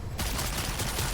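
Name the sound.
rocket launcher shots in video game Lost Ark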